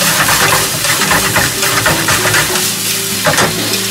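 Liver frying in a pan with ginger and garlic sizzles loudly and steadily, with stirring scrapes and clinks throughout and no talking.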